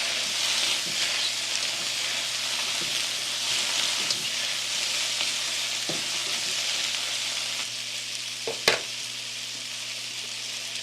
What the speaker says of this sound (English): So we've had the mushrooms sauteing now for, I don't know, close to 5 minutes.